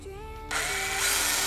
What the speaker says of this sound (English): Drill out the pilot holes.